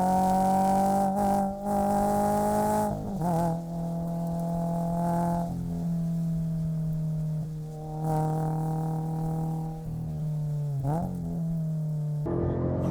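A Toyota GR86 engine holds a loud, steady high-revving drone while being driven hard on a mountain road, the pitch dipping and climbing through several gear changes and throttle lifts, with no talk over it.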